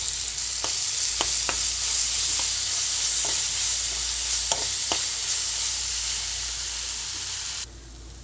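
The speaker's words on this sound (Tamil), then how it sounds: "இப்போ இஞ்சி பூண்டு பேஸ்ட்டோட பச்சை வாசனைலாம் போகிற அளவுக்கு இது நல்லா வதங்கணும்." Ginger garlic paste sautéing in hot oil for channa masala: a continuous loud sizzle close to the pan, broken by occasional stirring scrapes and taps, easing slightly quieter near the end, with no talking.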